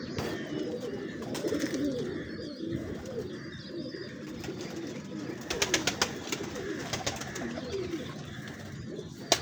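Breeder pigeons coo softly in a loft, low repeated calls amid a busy murmur with occasional faint chirps and bird movement.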